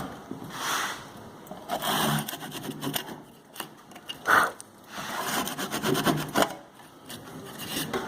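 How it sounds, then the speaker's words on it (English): A chisel pares wood to clean out a cross halving joint after saw cuts, producing close, rough scraping and shaving strokes in uneven bursts with short pauses between them, and no talking. "Using the chisel in a paring action, again we need a saw cut to get rid of the fluff."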